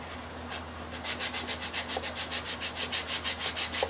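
Sandpaper rubs back and forth along the contour of a wooden clock, a close, even rasping rhythm of about twenty quick strokes after a quieter start.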